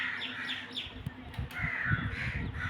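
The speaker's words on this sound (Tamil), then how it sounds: "காக்கான்னு சத்தம் போடுது." A crow caws several times in harsh, drawn-out calls, moderately close, against a soft outdoor background.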